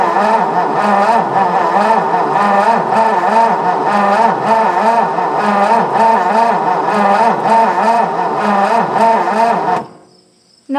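A 1958 Ford F600 truck engine cranking over on the key without starting, a loud rhythmic starter churn with regular pulsing compression beats for about ten seconds before cutting off abruptly.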